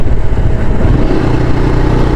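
Road vehicles pass steadily near a fishing port area, a continuous loud engine rumble with no pauses and no voices.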